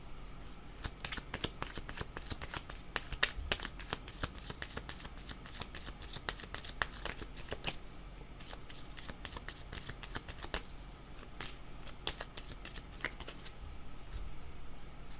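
Tarot cards are shuffled close up in a steady, rapid stream of papery riffling and flicking that runs throughout, with little else heard.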